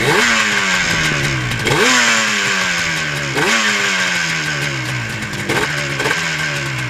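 A Yamaha RD400 two-stroke motorcycle engine runs with the choke on, revving up and falling back in repeated loud, close swells with mechanical clatter.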